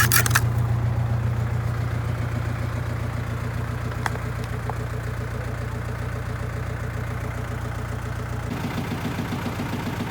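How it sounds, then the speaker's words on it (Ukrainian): A tractor engine pulling a carrot seeder runs evenly in the foreground, a smooth constant hum with a regular low pulse and no sputtering. "Двигун працює настільки чітко, що просто можна моркву поставити за штуку баксів на сівалку"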